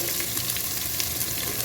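Onion frying in oil for a Tamil Nadu cabbage-potato sabzi makes a dense, even sizzle, close and continuous without pause.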